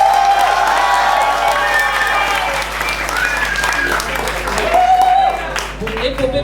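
A large improv-festival audience in Toulouse claps steadily for a vote, with scattered cheers and whoops rising through the applause.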